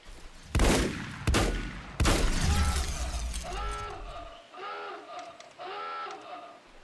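Enemy gunfire in the video game Volcanoids, three loud cracking bursts about a second apart with ringing tails, followed by softer repeated mechanical whirring tones, no speech.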